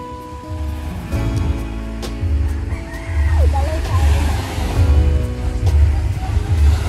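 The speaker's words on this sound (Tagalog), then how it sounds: "ang sarap ng tunog ng alon guys, oh" Ocean waves rolling in at a beach resort in the morning, a low rumbling surge that swells and recedes in slow cycles, heard from nearby.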